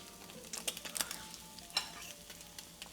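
Eggs frying in a pan, a faint sizzle with a few soft scrapes and clicks as they are stirred, quiet and close.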